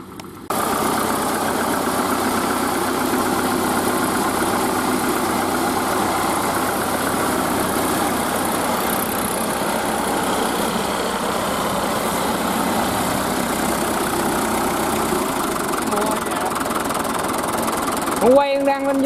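A Fiat Iveco diesel engine swapped into a Kubota tractor idles steadily and close by, a continuous rumbling drone that holds even throughout with no talk over it.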